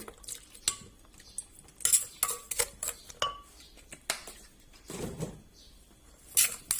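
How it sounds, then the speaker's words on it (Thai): Shrimp marinated in fish sauce with all the other ingredients is stirred in a bowl: irregular clinks and scrapes of a utensil, close and fairly loud, with no talk. "ใส่ส่วนผสมทั้งหมดแล้วก็คนเบิ่งเลยค่ะ"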